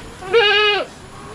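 A single native goat bleat, one loud wavering call of under half a second, close by and alone against a quiet outdoor background on a small farm.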